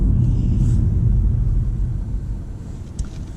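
BMW 440i Gran Coupe, 2018, with the engine in Sports Plus mode, a deep low rumble heard from inside the cabin, steady and then easing slightly, with no talk.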